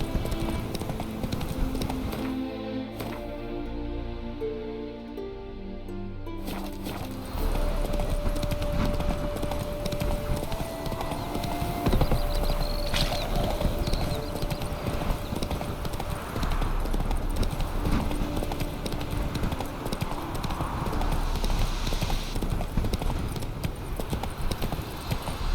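Roach the horse galloping in the video game The Witcher 3, with a steady, close run of hoofbeats over a dense outdoor ambience that continues throughout.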